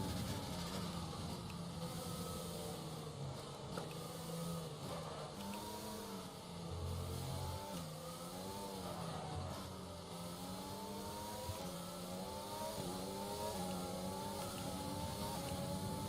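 Formula 1 car engine in F1 2020 with extra overtake power deployed at the Chinese circuit, a faint but continuous high-revving whine that climbs and dips through gear changes over a long unbroken stretch.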